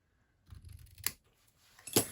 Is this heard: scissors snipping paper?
yes